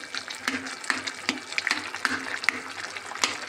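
Water boils in a covered pot, a steady bubbling hiss broken by regular soft ticks and clicks as steam escapes under the lid, moderately close with no talk.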